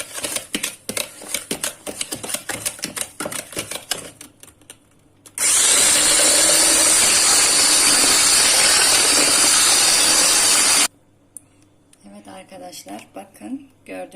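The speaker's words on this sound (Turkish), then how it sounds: "Ve mikser yardımıyla köpük köpük olana kadar karıştırıyorum." Electric hand mixer whipping eggs and sugar until foamy for a poppy seed revani cake, a loud, steady whirring that runs about five seconds, with clattering handling sounds beforehand and movement afterward.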